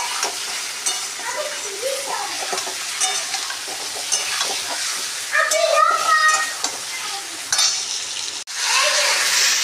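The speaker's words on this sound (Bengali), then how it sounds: "ভাজা ভাজা হয়ে গিয়ে নামিয়ে দেবো।" Potatoes fry in a pan with turmeric and salt, producing a continuous sizzle broken by scraping stirs, fairly close, with a few faint background voices.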